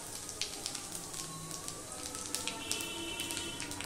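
Dried red chilli pieces and Bengali five-spice sizzle and crackle in hot mustard oil, with a steady close frying hiss and scattered sharp pops, no one speaking.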